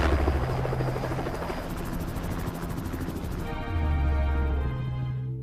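A helicopter's rotor thumps steadily with a heavy, droning engine, close and loud throughout, the pitch shifting slightly toward the end.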